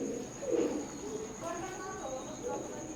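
A pair of KTM bloodline Teddy pigeons coo softly, low rolling calls in short bursts with a faint steady background tone.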